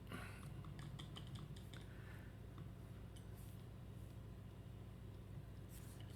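Crisis cards being shuffled by hand for the Mr. President board game, a quick run of soft papery riffling clicks over the first two seconds, then faint tapping and near-silence against a steady low background hum.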